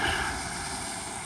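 Steady broad engine drone of an airplane passing overhead, loud and continuous with no talking.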